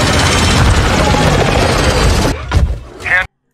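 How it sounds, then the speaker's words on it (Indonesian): Loud, dense whirring and rumbling of a drone swarm arriving in an action film, a constant roar that suddenly cuts off, followed by a few brief whooshes and a final burst before silence. "datang tuh pasukan drone sensor"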